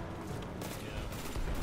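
Rapid bursts of Scorch Cannon gunfire ring out in a video game, a dense loud fusillade of overlapping shots that fills the whole moment while players talk over it.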